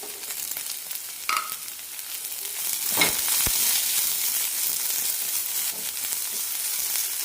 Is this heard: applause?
no